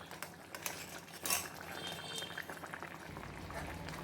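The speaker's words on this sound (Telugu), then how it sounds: "చూడండి లోపల ఉడుకుతూ ఉంది" Egg curry simmers in a pan on the stove with a soft, steady bubbling hiss, punctuated by a few light clinks of a utensil against the pan.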